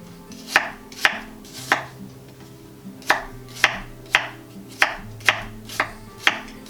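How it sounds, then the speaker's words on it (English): Knife chopping an apple into small pieces on a cutting board for cranberry sauce, about a dozen crisp, close knocks at a fairly even pace, with no voices. "now we're just going to cut the apple up into little pieces"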